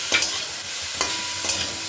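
Chopped onion, garlic, ginger, green chilli and vegetables for momo filling stir-fried in a pan, a loud continuous sizzle with three sharp spatula scrapes spaced through it.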